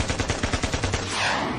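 Cartoon gunfire comes as a loud, rapid burst of about a dozen evenly spaced shots and ends in a hissing whoosh. There is no talk.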